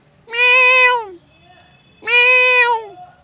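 A 73-year-old man in a park imitates a cat with his voice, giving two long, clear meows with a pause between them, close and loud against a quiet background.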